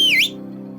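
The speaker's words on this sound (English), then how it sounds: "Then the old jellyfish whistled loudly." An old jellyfish in a children's mermaid cartoon lets out a single loud, bright whistle that dips and rises in pitch, then stops abruptly, leaving a soft background hum.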